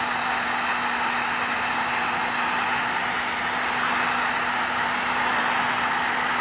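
A heat gun blows hot air to preheat a modded Novarossi 28-7t engine: an unbroken, even whooshing hiss with a constant tonal hum, close and steady throughout.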